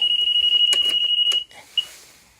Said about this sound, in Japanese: 今、イモビが動作しました。